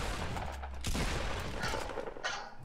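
Sniper gunfire in a Fortnite match, a couple of sharp synthetic cracks with some rapid bursts, fairly close and loud, with no talk over them.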